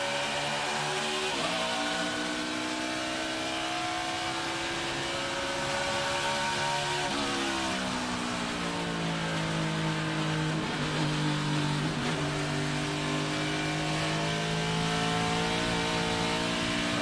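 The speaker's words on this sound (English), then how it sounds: "Hear that downshift?" A race car's engine heard from an in-car camera at a desert oval race, droning steadily then dropping pitch through several downshifts, loud and close with no voices.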